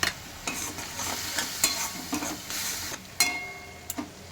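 Potatoes with chili powder, salt, coriander and cumin powder being stirred in a pan: brisk scraping strokes and spoon knocks recur about every half second over a steady sizzle, close and fairly loud.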